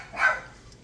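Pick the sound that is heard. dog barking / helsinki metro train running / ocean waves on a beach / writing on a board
dog barking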